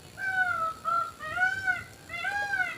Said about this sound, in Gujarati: મસ્ત આપણા મોર બોલે છે